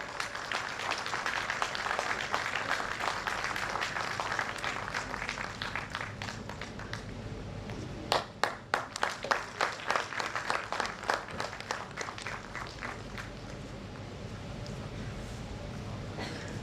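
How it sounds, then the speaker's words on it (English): Audience applause at a live women's convention honoring Dr. Dhruba Rai, a steady crowd of clapping that swells into sharper, closer claps midway before settling back into a sustained wash. "A huge round of applause for Dr. Dhruba Rai."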